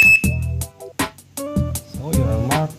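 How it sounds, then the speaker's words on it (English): An alarm padlock being tested, sounding a loud electronic alarm in a series of short, repeated bursts with shifting tones and brief gaps, close and alone. "So there you have it, it's an amazing alarm lock."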